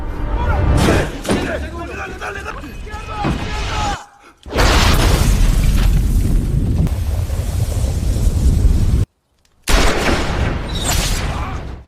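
Loud booming blasts with shattering debris erupt in bursts, broken by brief silent gaps, with dramatic film sound and voices mixed in.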